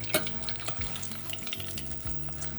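Battered fish deep frying in oil at around 180 degrees, a close, continuous bubbling sizzle with one sharp clack near the start.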